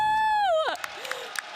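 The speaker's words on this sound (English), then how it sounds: "And you can hear the crowd going out right now." Crowd noise at the Brawlhalla World Championship, where a loud tonal whoop slides downward and gives way to a fainter background crowd with scattered sharp claps and shouts.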